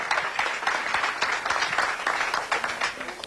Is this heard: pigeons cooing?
no